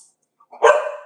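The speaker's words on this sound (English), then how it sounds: "Puppy." A puppy gives one short, sharp bark, close and loud, after a moment of near silence, with no talking.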